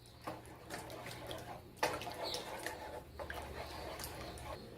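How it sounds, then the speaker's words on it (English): About one and a half cups of water poured into a Chinese casserole mixture: a steady, close splashing pour with a sharper burst partway through, and no one talking. "Now you're going to add the 1½ cups of water."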